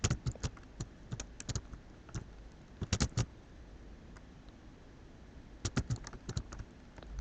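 Typing on a computer keyboard in quick, uneven bursts of close key clicks with short pauses between, fairly quiet against a faint room hiss and no talking.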